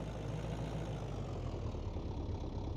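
A 200-horsepower car engine with a smashed radiator idles in a garage, a steady low rumble with a faint knocking texture that runs continuously and fairly close, with no voices.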